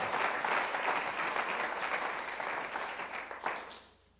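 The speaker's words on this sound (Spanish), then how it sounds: "Dale una ofrenda de palmas al Señor" A church congregation clapping at a Spanish-language service, a dense, sustained round of applause that holds steady, swells briefly near the end, then fades out.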